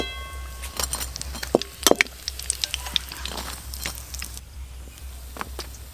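Snacks frying in hot oil give a soft continuous sizzle, broken by scattered clinks and stirring sounds from a pan in a home kitchen, moderately close and without speech.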